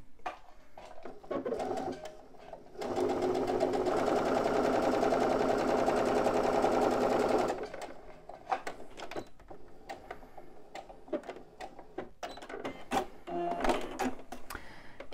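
A sewing machine stitches a seam close to the edge of a fabric fanny pack, a steady, fast mechanical whirring burst lasting a few seconds, framed by quieter handling clicks and rustles before and after.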